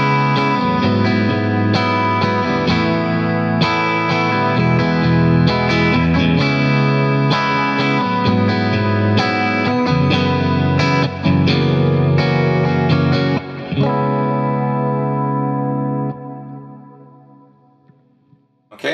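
Clean electric guitar rhythm part played through a programmable true bypass switcher and effects with chorus and echo, strummed chords in a steady rhythm, loud and close, ringing out and fading at the end.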